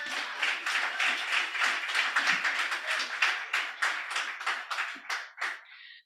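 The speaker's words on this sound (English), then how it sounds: "Can we get a round of applause for that, please?" A startup pitch night audience claps, with individual hand claps distinct within a modest round that runs about six seconds before thinning to a few last claps.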